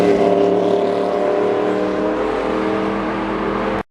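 A classic MV Agusta Ago replica motorcycle engine holds a loud, steady, close revving drone for several seconds and then cuts off abruptly.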